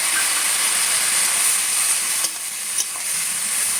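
Taro stolon curry sizzling hard in a pan after water is added, a dense loud hiss that holds steady, with a couple of faint clinks near the end.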